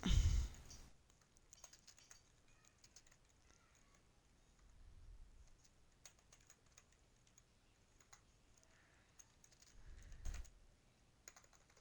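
Keys on a computer keyboard clatter in a steady run of soft, close clicks, with a louder burst at the start and a few heavier thumps later on.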